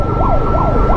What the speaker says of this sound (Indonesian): sekarang gua lagi di belakang ambulans sih